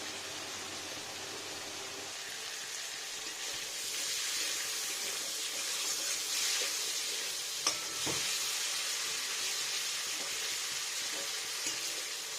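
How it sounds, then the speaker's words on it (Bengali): Prawns frying in a pan make a steady, soft hiss that continues for the whole stretch, with a faint clink of utensils partway through and no voices. "চিংড়িটা ভেজে নিয়ে এখন ভালো করে মুচু করে"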